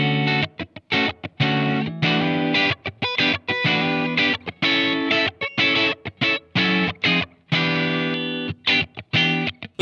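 Electric guitar played through a Blackstar Amped 1 amp set for a clean tone: choppy, rhythmic strummed chords and short stabs with brief gaps between hits, loud and close.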